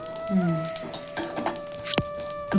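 Chana dal roasting dry in a pan for wedding-style chutney powder, stirred with a utensil that scrapes and clinks against the metal, light rattling and a sharp clink near the end.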